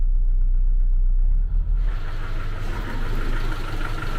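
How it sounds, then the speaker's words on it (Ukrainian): The engine of a Tavria car idles at low RPM with a steady, loud, close rumble and an even low throb, and the tone brightens slightly partway through. "Тобто це взагалі низькі холості оберти."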